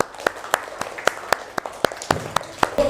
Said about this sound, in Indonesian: Kasih tepuk tangan untuk Fabian.